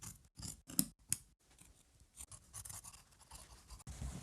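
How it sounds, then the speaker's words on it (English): Scissors snip along the edge of jacket canvas fabric, trimming around the armhole of a coat forepart, giving a few crisp close cuts early on followed by softer rustling of the handled cloth. "I'm trimming everything along the edge of my fabric, including the armhole area"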